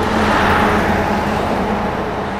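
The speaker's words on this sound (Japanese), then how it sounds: "道南バス。" A Donan bus drives past on a coastal road in Hokkaido, its engine and tyre roar loud and broad, holding steady before easing slightly as it goes by.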